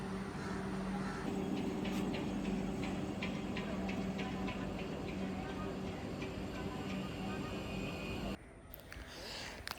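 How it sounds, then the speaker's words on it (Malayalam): Train being shunted slowly toward a platform at a station on the Shoranur–Nilambur line: steady rumble with rhythmic metallic ticks and clanks. Platform ambience runs throughout, and the sound cuts off abruptly near the end. "അപ്പം ഷണ്ട് ചെയ്ത് കൊണ്ടുവരുന്ന കേട്ടോ ട്രെയിൻ ഇത് പ്ലാറ്റ്ഫോമിലേക്ക്"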